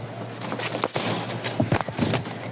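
A male Rajshahi giribaz pigeon gives soft, low cooing calls in a few short bursts, heard close over a faint background hiss, alongside some rustling and scuffling.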